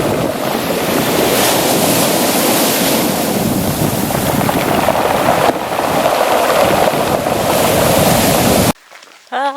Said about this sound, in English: Mystic Beach at high tide.